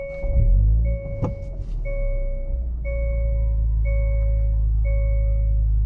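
A 2021 Hyundai Veloster N with a dual-clutch transmission, heard from inside the cabin as a steady low engine rumble, with a thunk near the start and a warning chime beeping about once a second.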